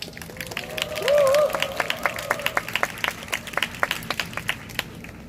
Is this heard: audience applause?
yes